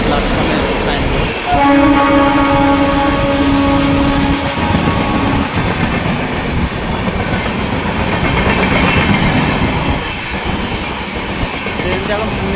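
A train from Mumbai rolls through Telegaon railway station with a loud, continuous rumble and rhythmic wheel clatter, joined early on by a sustained horn-like tone, all heard up close.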